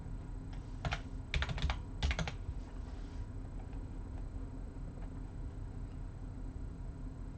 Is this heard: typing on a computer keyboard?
yes